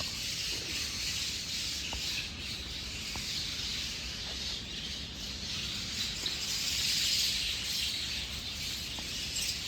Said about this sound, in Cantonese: 到寧波門前都聽到呢度好多雀仔嘅聲啊！